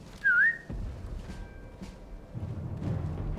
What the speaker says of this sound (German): Wollte gar nicht pfeifen.